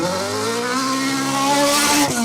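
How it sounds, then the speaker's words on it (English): A 2WD rally car races along a Trackrod Rally Yorkshire stage, its engine note loud and close, holding steady revs and then building into a hard, rising drive. "really great sounding car"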